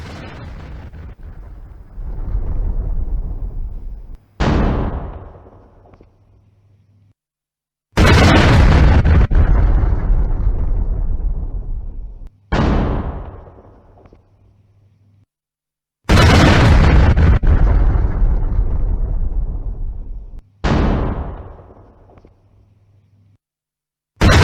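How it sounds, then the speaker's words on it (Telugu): A massive factory explosion in Ryazan, Russia plays as repeated loud blasts, each a sudden heavy boom fading into a long roaring rumble, with no voices over it. "ఒక్కసారి మనం స్క్రీన్లో చూడొచ్చు ఎంత భారీ పేలుడు సంభవించిందో"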